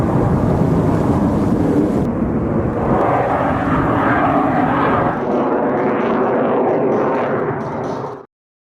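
A Sukhoi Su-57 fighter jet roars loudly overhead while flying and maneuvering, a broad, sustained engine thunder that swells, then tails off before cutting out abruptly.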